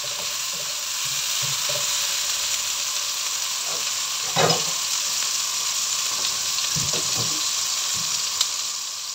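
Garlic, onion and shrimp fry in a pan with a loud, steady close-up sizzle, broken by a few scraping stirs and utensil knocks, no talking.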